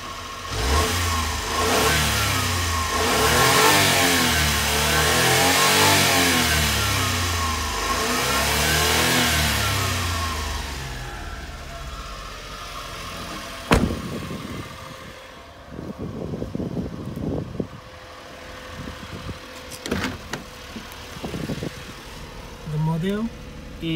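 A 1992 Honda Acty HA4 4WD mini truck engine revs in repeated rising and falling sweeps, then drops to a rough idle with clicks and handling noises nearby, while a voice talks over it.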